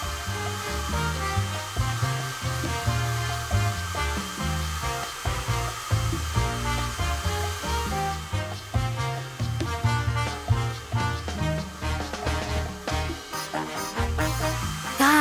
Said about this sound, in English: Now take the hairdryer and start carefully blowing on the waves